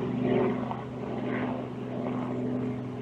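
Propeller aircraft flying low over a nature reserve beneath a Heathrow flight path, its steady droning hum filling the whole stretch at close, fairly loud range with no talking.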